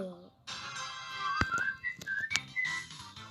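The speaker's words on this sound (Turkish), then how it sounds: "Islık çalıyor benim karakter ya." A video game character whistles a short melodic tune in several rising and falling phrases over game music and effects, with a person talking alongside.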